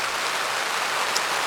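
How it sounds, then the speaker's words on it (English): Steady outdoor rain makes a dense, even hiss of countless drops, fairly loud and continuous throughout, with no voices. "the rain is angling across this way"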